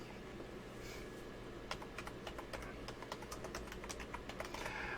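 A computer keyboard is typed on in a quick run of light, close key clicks over a faint steady background hum.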